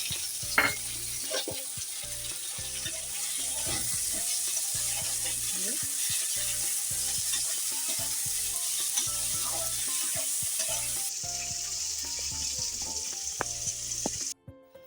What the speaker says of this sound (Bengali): পেঁয়াজগুলো এবার হালকা লাল লাল করে ভেজে দিলাম